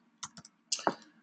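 A few quiet computer keyboard keystrokes sound close up in short, irregular clicks, two early taps and then a quick cluster, in an otherwise silent room.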